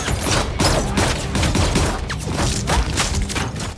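Gunfire during a fight scene in a crime film with Russian mafia, a dense fusillade of rapid shots and booms rattling on continuously, loud and close, without speech.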